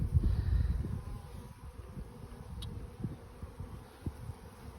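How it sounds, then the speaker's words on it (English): Honey bees in a hive of a weak, starving colony give off a steady, close buzzing hum with small irregular bursts of activity, alone and without talk. "The honeybees are moving around and active."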